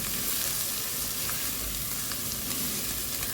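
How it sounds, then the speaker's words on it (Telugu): Onion pieces frying in oil for spinach chicken curry, a dense continuous sizzle with occasional stirring noises, close-up and steady, with no voices. "ఇవన్నీ కలిపి కొంచెం రెడ్గా రెడ్గా బాగా ఫ్రై అయితేనే కర్రీ బాగా వస్తుంది"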